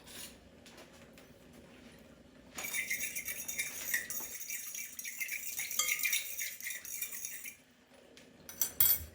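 Ingredients in a bowl for a vegan roast beef being stirred with a metal utensil, a few seconds of scraping and clinking rattle against the bowl, close and moderately loud, with quieter handling before and after.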